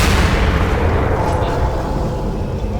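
A loud, sustained blast from an SMG grenade in the video game Entropy: Zero 2, a thick roaring boom that fills the whole moment and slowly tails off, with someone talking over it.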